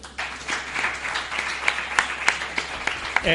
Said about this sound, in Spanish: un aplauso para Gun Kaiser